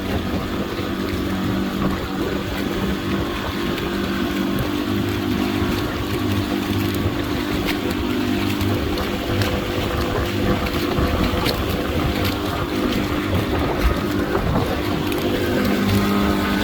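Steady, close drone of a custom bangka boat's motor running barely above idle as it cruises slowly along a beach shoreline near a fishing community, continuous and unbroken throughout with water wash underneath.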